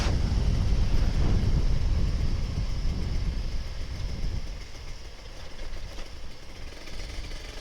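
Kawasaki Ninja RR 150 motorcycle riding on light throttle, a steady engine drone mixed with road and wind rush, loud at first and easing somewhat as it continues.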